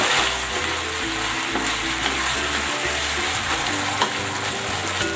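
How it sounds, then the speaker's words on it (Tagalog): Chicken marinade hits a hot pan for chicken afritada, giving a loud, continuous sizzle and crackle close up, with faint stirring or utensil sounds underneath and no talking. "Ibubuhos ko na dito yung pinagbabara nitong chicken."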